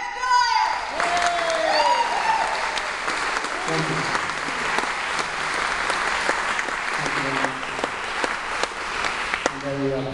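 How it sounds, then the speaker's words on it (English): An audience at an N.E.A. Honors performance at the Library of Congress gives a sustained round of applause, steady and full throughout, with a few voices faintly audible in the crowd. "Please, a big round of applause, Kevin!"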